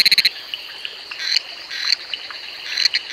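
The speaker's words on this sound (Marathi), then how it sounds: "नर बेडूक मादीला आकर्षित करण्यासाठी घशातल्या हवेच्या पिशवीला फुगवून आवाज" Male frogs call at night in a Western Ghats forest with rapid pulsed bursts and rising calls over a constant shrill insect chorus, fairly loud and close.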